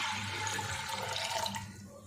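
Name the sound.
water poured into pressure cooker with lentils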